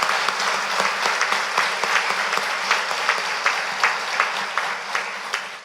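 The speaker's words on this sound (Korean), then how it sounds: "우리를 데리러 다시 오실 주님께 다시 한번 감사와 영광의 박수를" A church congregation claps together during an Easter Sunday service, a steady, fairly loud wash of applause with a loose rhythmic pulse running through it and no one speaking.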